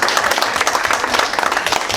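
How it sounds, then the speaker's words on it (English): Loud, close applause and clapping from a group at a fire police training session, steady and brisk for the full two seconds with no talk over it. "Clap it up for June."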